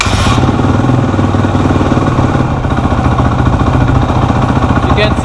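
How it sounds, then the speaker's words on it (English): A dirt bike engine runs loud and close in a steady, rapid idle that starts up just after the beginning. "start the bike and see if everything,"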